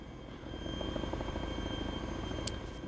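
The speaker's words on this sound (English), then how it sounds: "Right, park the helicopter." Helicopter idling in the Arma 2 DayZ Epoch mod, a steady rotor drone and engine hum at low level with a brief sharp click near the end.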